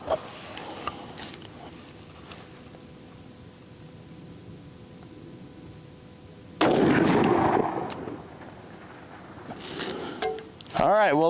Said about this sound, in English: Let's try and range shot to that 700 real quick.